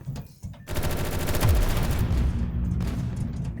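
Heavy, chaotic automatic gunfire from the video game Sector's Edge rattles continuously after a brief quieter opening, with a low boom partway through, loud and close.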